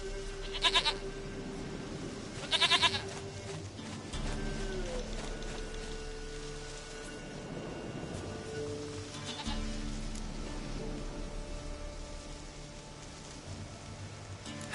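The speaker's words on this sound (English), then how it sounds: "Goat of mine, dearest, sweetest goat." A goat in The Witcher 3 gives a few short, nasal bleats over a steady ambient background, with brief sharp sounds near the start.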